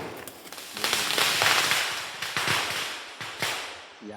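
Firecrackers set off near a home to drive a herd of elephants with a calf back into the forest, giving a series of sharp, loud cracks and bangs in irregular bursts over steady background noise.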